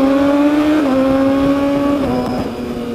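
A motorcycle engine drones steadily up close, holding a sustained rev that shifts pitch slightly a couple of times, loud and alone.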